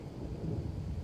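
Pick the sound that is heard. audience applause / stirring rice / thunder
thunder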